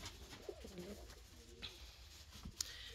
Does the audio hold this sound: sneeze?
no